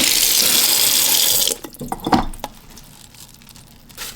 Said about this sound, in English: here's the part that I really enjoy, is when you just drip some water on it.